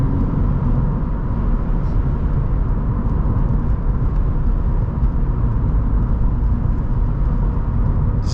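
A 2013 Subaru BRZ on the road, heard from inside the cabin, with a steady, loud blend of engine drone and tyre roar that stays constant and close throughout.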